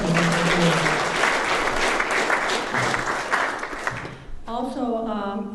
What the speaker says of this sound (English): I'd like to give them a round of applause